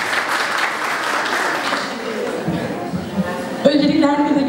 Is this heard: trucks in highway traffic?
no